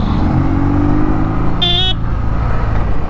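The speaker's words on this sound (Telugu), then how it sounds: "ఫస్ట్ మన ఇద్దరం హార్న్ అయితే మార్చాలరా." A short horn toot from a motorcycle, a brief bright blast over a loud continuous engine rumble, close by.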